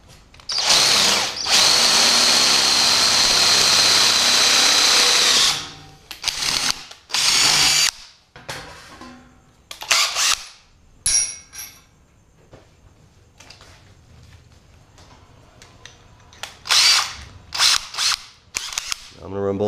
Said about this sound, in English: I'm going to chase it down with a 3/8 drill bit.